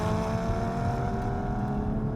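A Sharkwerks Porsche Cayman GT4 in sport mode drives with its exhaust baffles open, giving a steady, droning engine and exhaust note heard from inside the car without any talk.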